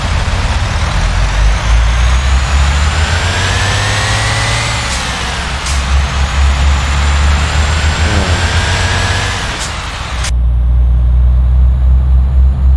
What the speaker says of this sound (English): The power of this truck is 380 horsepower, and I'm pulling 22 tons.